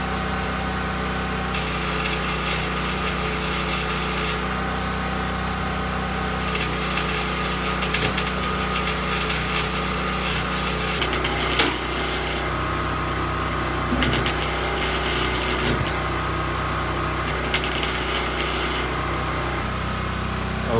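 A steady close-up electric drone, likely welding on a drag car's fender, runs throughout, with stretches of brighter crackling hiss starting and stopping in bursts; no talking.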